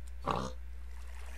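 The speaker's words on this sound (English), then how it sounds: "piggy's making noise." A single short pig oink from a Minecraft TerraFirmaCraft mod pig, brief and moderately loud over a steady low game hum, otherwise quiet.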